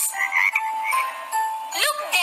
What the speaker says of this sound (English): 4 frogs.